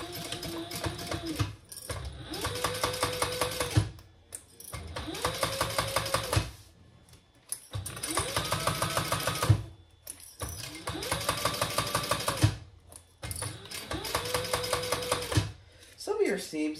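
A sewing machine stitches across the top of a fabric tote bag in several bursts of rapid mechanical rattling, each lasting a couple of seconds, separated by short pauses; the runs are close and loud.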